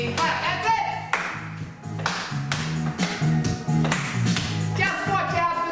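Hand claps during a knee lift exercise class, sharp taps landing in a steady rhythm over loud upbeat music, with a voice calling out moves.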